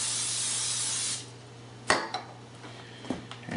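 Cooking spray hissing steadily for about a second into a new mixer bowl in a home kitchen, followed by a few light clinks of dishes and utensils.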